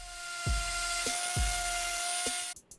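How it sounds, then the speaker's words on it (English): A power sander works on a stand-up desk post, giving a continuous high whine with a few duller thuds of contact, then cutting off near the end. "Little sanding just to clean it up."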